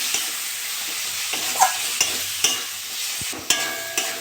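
Tomato and ground coriander, cumin and salt being stirred and fried in oil for a tilapia curry, a steady soft sizzle broken by several sharp scrapes and knocks of the spoon against the pan, with no talk.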